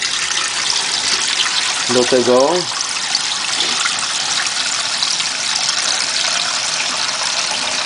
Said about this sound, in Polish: Pozwolę sobie wlać tutaj znowu zimnej wody